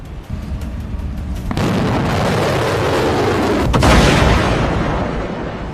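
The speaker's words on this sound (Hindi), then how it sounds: "धमाके दर धमाके, मिसाइलों के, रॉकेट के" Missile and rocket explosions in a war between Iran and America rumble and roar as a loud sustained blast, with a sharp burst near the start and another swelling boom later, no speech.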